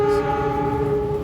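The Pangandaran train passes straight through Jatinegara station in Jakarta, sounding a loud, sustained, steady horn tone with a rumbling rail noise underneath, heard nearby.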